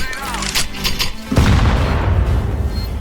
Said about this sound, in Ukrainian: давай, я кину под собой гранату